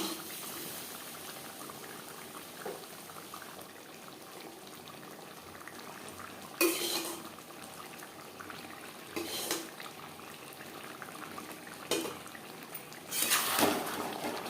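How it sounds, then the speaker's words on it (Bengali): Chicken curry bubbles in a pot as fried potatoes are added, a soft steady simmer punctuated by several louder splashy bursts of pieces dropping in and being moved, close and without talk. "এই পর্যায়ে দিয়ে দেবো ভেজে রাখা আলু"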